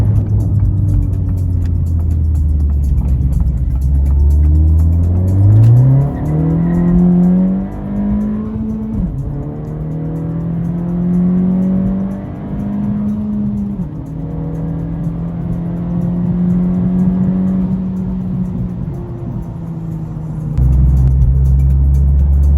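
A turbocharged Acura Integra accelerates hard through its gears, the engine note climbing in pitch, dropping at each shift, then climbing again across several pulls, loud and close with no talking.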